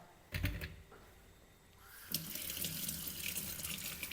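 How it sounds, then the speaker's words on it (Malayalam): Water runs from a tap and splashes as freshly dug tapioca roots are washed, with a couple of knocks at first and then a steady, fuller gush of flowing water. "അപ്പോൾ നമുക്ക് നന്നായിട്ട് കഴുകിയെടുക്കാം കേട്ടോ"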